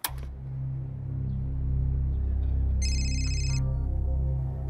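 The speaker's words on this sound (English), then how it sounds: "Menina gets a phone call from the victim's cousin" A telephone rings with an incoming call, one short electronic ring burst heard over a loud, steady low hum.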